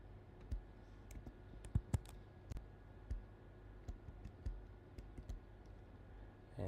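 Rapid typing on a computer keyboard while entering a username for a database connection, a steady run of sharp, close key clicks with a few louder strikes, no talking.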